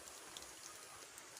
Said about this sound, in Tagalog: pala umuulan dito sa amin.